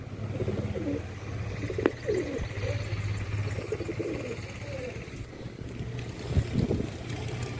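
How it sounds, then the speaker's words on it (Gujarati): Pigeons settle one after another on a house rooftop, cooing in soft repeated low phrases over a steady background hum, with faint voices nearby. "કબૂતર એક પછી એક લેન્ડ થઈ રહ્યા છે આપણી મેળી ઉપર"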